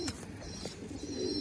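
Pigeons cooing softly in a short, low, throaty burst, fairly faint against a steady background hiss, with no talk over it.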